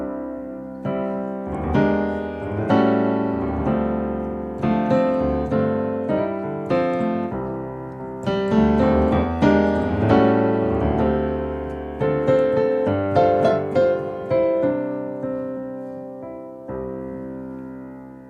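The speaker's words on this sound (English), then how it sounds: "So the same 251, only different harmonic tonalities, gives the progression a completely different sound." Piano playing a 2-5-1 chord progression with major chords, sustained rich voicings struck in a steady rhythm, solo and close, ringing throughout.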